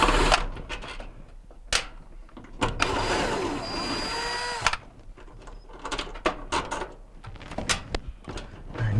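Phillips head screws are removed from the belt switch of a Whirlpool dryer, with a motorized whir from the driver, sharp clicks and clatter, close by.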